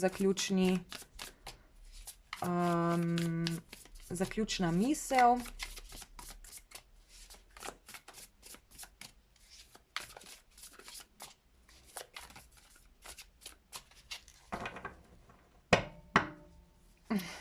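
Tarot cards are shuffled by hand in a rapid, crisp run of soft card flicks and clicks. Someone speaks in Slovenian in stretches between and over them.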